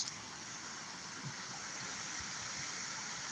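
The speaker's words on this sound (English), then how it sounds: "You can hear the roaring water." Roaring rush of the Rio Grande River in Jamaica, a steady broadband wash of fast water that stays loud and unbroken throughout, with a faint low rumble beneath.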